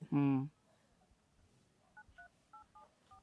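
A telephone number dialed on a keypad: a short loud burst at the start, then a quick run of about six distinct two-tone DTMF beeps in irregular rhythm, close and clear against quiet background.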